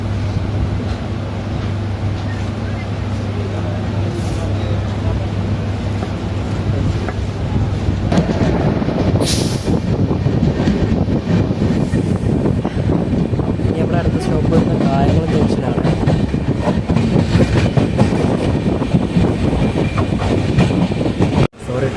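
Kochuveli–Mangalore Antyodaya Express pulling out of Kollam: a steady low engine hum gives way to loud, continuous rumble and rattling wheel clatter as the train gathers speed, with wind buffeting the microphone.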